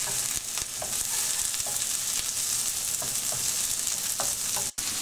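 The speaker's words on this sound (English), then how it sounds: "First to go in are the onions, because they will take a bit longer to cook" Onions frying in a stir-fry pan for a lamb dish with orange and ginger, a steady close hiss of sizzling broken by occasional soft scrapes and knocks of stirring.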